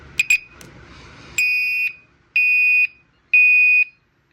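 A few short clicks, then three loud, evenly spaced blasts from a Gentex Commander 5 LED horn/strobe fire alarm, each about half a second, piercing and close with silence between.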